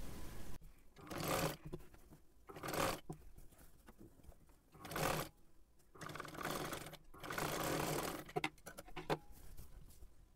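Domestic sewing machine stitching a sleeve onto a kurti, running in several separate bursts of rapid whirring stitches with quiet pauses between them, close up and with no talk.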